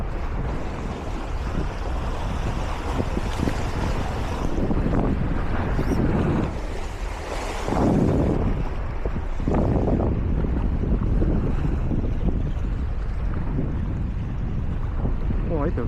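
Strong wind roars steadily across the microphone on a rocky seashore at Peng Chau during shore fishing. The loud, continuous gusting blends with a dull rush of surf.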